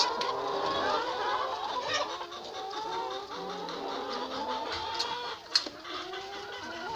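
Several free-range hens cluck and murmur nearby in a coop, a busy stream of soft overlapping calls with a few sharper squawks, no voices.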